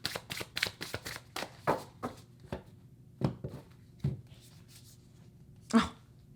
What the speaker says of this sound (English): Let's go ahead and pull. I'm going to pull a card for the Queen of Swords.